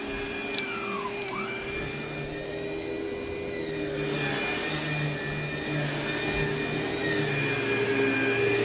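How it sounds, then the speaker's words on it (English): A vacuum runs continuously for the whole stretch, a loud, close, steady whirring drone with slight shifts in pitch and no voices. "as you can see, I got a different vacuum."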